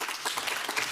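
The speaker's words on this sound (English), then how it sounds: "I would like you to clap your hands if you have already been doing that" A conference audience applauds briefly, a dense wash of many hands clapping at moderate distance, with no voices over it.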